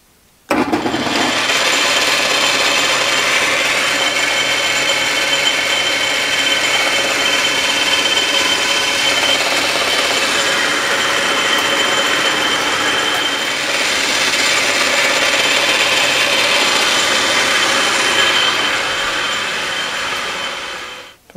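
A South Bend 11 metal lathe turns down a steel spindle stop, giving a steady, loud mechanical whir and hiss that runs almost unbroken for about twenty seconds, with no voices over it.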